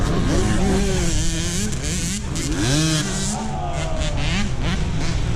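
A two-stroke dirt bike engine at a Mid East motocross race at Walnut Grove, revving on the pipe and rising and falling in pitch through several throttle bursts amid continuous loud engine noise from the track.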